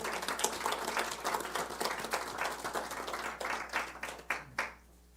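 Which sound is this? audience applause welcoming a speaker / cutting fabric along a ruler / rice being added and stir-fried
audience applause welcoming a speaker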